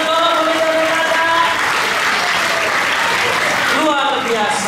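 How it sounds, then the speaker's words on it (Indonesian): Loud, sustained applause from a large crowd at a national Sunday school jamboree, with a voice speaking over the clapping at the start and again near the end. "Boleh kita beri tepuk tangan sekali lagi kepada boneka Tora kita"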